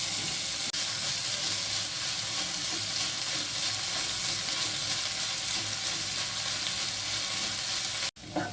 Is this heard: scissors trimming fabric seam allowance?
no